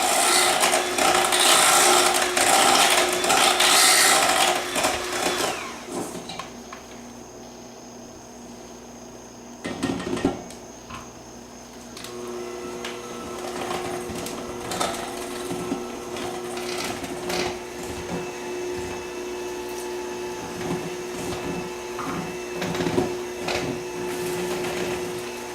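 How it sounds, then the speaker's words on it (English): An electric hand mixer beats cream cheese filling for a pumpkin roll, starting with a loud broadband whir for a few seconds, then settling into a steadier motor hum with light clatter against the bowl. "Now we're going to go ahead and mix this all with the hand mixer until it's smooth"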